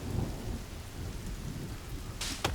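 Rain pours steadily with a low rumble of thunder in the video game The Forest, a dense continuous wash with a sharp crackling burst near the end.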